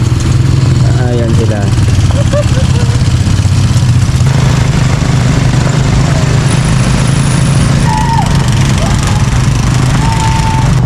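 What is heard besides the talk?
motorcycles crossing during the holiday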